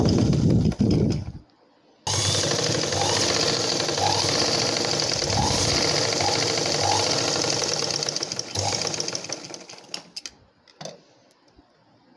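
A sewing machine runs stitching a blouse, a fast rattling mechanical chatter that starts after a brief pause, runs steadily for several seconds, then stops, followed by a few faint clicks and handling taps.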